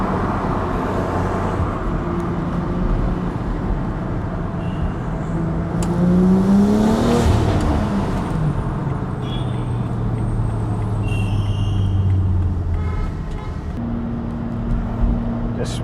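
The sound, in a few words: BMW X3M with Active Autowerke exhaust driving in traffic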